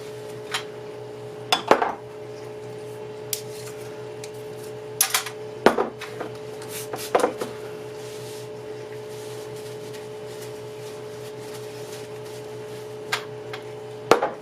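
Glass canning jars are wiped and set down, giving scattered light clinks and taps over a steady low hum, close but soft, with long quiet stretches between the knocks.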